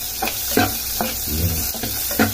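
Onions sautéing in a pan, stirred with a utensil: a steady sizzle with several distinct scraping stir strokes at an even pace, close and fairly loud, no voices.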